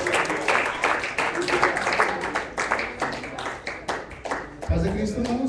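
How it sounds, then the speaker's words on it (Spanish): Church congregation giving a strong round of applause to welcome a speaker, dense clapping sustained and fairly close, with voices talking over it and a low thump near the end. "con un fuerte aplauso vamos a recibir a nuestro hermano"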